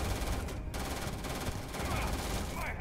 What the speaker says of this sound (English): This weapon's not bad. It goes through the ammo quick.